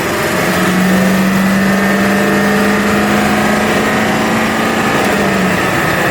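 A 2000 Ford F350 Supercab dually with the 7.3 liter Powerstroke diesel pulls uphill under throttle, its engine drone steady and continuous with a sustained low tone throughout.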